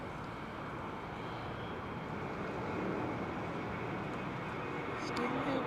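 An Airbus Neo airliner at Heathrow in storm winds produces a steady, moderate broadband roar mixed with gusting wind noise, with a few faint clicks near the end.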